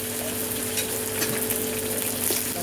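Minced pork stir-frying with garlic in a wok, cooked in a large batch, gives a steady close sizzle with faint scraping of the spatula throughout.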